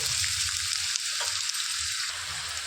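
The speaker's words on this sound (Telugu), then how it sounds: "ఇందులోనికి సన్నగా తరిగి పెట్టుకున్న ఉల్లిపాయలు వేసేసుకోవాలి." Finely chopped onions hiss and sizzle in hot oil, a dense continuous frying sound, close and steady with faint stirring bumps underneath.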